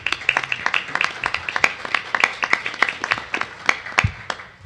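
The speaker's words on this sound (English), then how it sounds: "The applause is well deserved." Applause from delegates at a US Chess delegates meeting, a dense patter of many hands clapping steadily in a room, moderately loud and continuous without voices.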